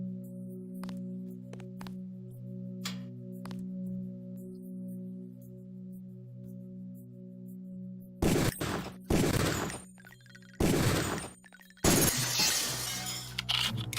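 Gunfire hits training targets in the video game Deus Ex. Three loud, crashing bursts with a glassy shatter break in late, after a long stretch of quiet electronic hum and faint clicks.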